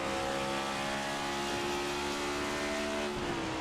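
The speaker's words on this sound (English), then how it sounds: "He's got to blip the throttle a little bit because while these are semi-automatic or semi-manual, you don't have to push in the clutch." Next-generation stock car engine in the iRacing simulator, heard from on board at Gateway as it blips the throttle between semi-automatic gear shifts; a loud, continuous engine drone with shifting pitch and no talk.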